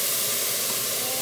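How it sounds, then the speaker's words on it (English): Broth hisses and sizzles steadily as it is added to a hot pan for risotto, a continuous close-up spray of noise with no voices. "And you can hear it sizzle."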